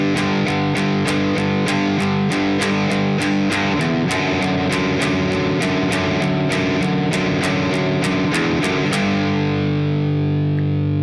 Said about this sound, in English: obviously we've turned the distortion on at this point